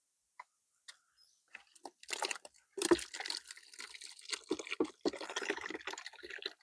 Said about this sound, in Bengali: ছেড়ে দিলে এটা চলে যাবে গোবর, ইজিতে চলে আসছে।